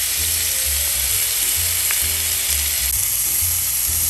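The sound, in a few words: lobster tail searing in a pan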